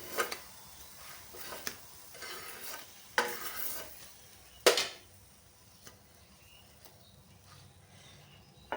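Crisp brinjal slices fry in oil, a quiet low sizzle with a few sharp clinks and scrapes as pieces are lifted from the pan, no talking.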